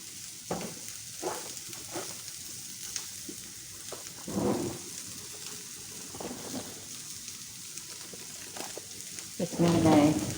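Vegetables with ginger, garlic and crushed chilli frying in a pan for noodles, a low steady sizzle with occasional louder stirring scrapes and clatters, a louder burst near the end.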